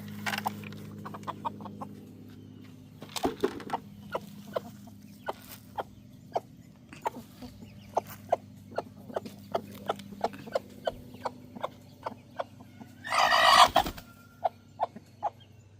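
Homestead chickens near poultry netting, with soft clucks among a steady run of sharp, rhythmic pecking taps and a short, loud burst of squawking or flapping near the end, all fairly close and without talk.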